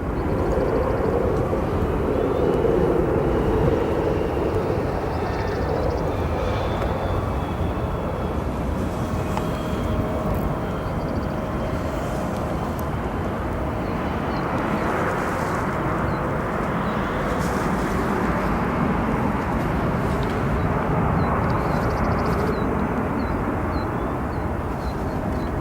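A jet departs at O'Hare International Airport, a steady distant roar of engines with broad rumble that swells slightly midway and carries on evenly throughout, with no talking.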